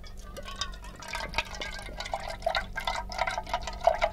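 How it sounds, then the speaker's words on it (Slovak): Raspberry lemonade is poured through a small tube into a glass, a bubbly gurgling trickle with drips running steadily throughout at moderate level. "v tej hadičke si takto nalieva malinovku do pohára"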